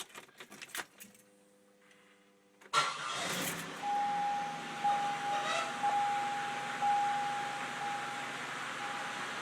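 A 2000 Pontiac Bonneville SSEi with a supercharged 3.8 litre engine cranks and fires up after a few key jingles, then settles into a steady idle with a thin whine, close and alone.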